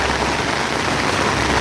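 Heavy rain pours down steadily, a dense, loud hiss of drops hitting surfaces with no pauses.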